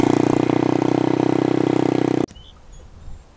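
A GY6 scooter engine with stock CDI box and black clutch spring drones loudly and steadily at high revs with a rapid pulsing rhythm, then cuts off abruptly, leaving near silence.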